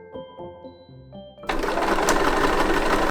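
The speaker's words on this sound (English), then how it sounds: "I think I'm gonna sew it to the lining layer first." A sewing machine starts up and runs steadily and loudly close by, stitching a coat collar onto the lining layer of a reversible coat. Quiet tonal hums and clicks come before the motor begins.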